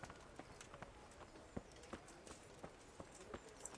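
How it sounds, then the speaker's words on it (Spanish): Hooves of a horse ridden without a saddle clip-clop in steady, moderately paced footfalls in the Kingdom Come: Deliverance video game, faint and distinct over a low background. "Ve, mi caballo no tiene ni silla ni nada."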